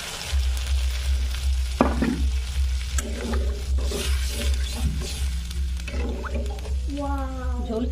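Water goes into a hot pan of frying ingredients for an elephant-foot yam and prawn curry, setting off a loud, steady sizzle and bubbling that lasts throughout, with some stirring and a voice talking over it.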